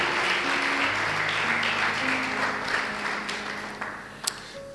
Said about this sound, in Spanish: Si lo cree de verdad, dale un aplauso al Señor.